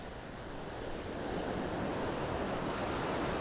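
Ocean waves roll and break continuously at Vanderbilt Beach in North Naples, Florida, a steady broadband wash of surf with some wind buffeting the microphone, loud and close throughout with no talking.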